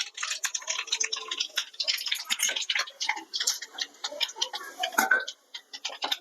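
Mustard seeds, fenugreek and cumin crackling in hot oil for a pirandai pickle tempering, with dense rapid pops and ticks, close and fairly soft, without talk.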